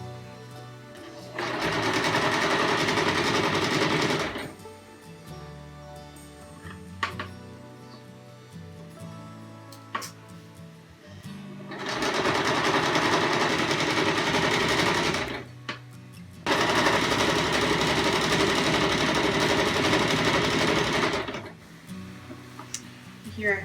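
A sewing machine runs a simple straight edge stitch along a half-inch hem on a car seat poncho, in three long steady bursts of dense whirring separated by pauses with faint handling sounds.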